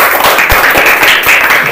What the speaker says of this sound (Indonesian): Silakan kita beri tepuk tangan untuk kelompok putih.